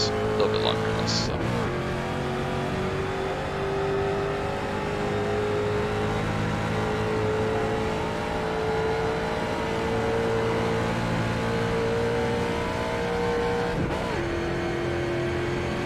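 Street stock race car engines drone steadily at Charlotte in the iRacing sim, a continuous loud roar with rising and falling pitch as several cars run together and others pass by.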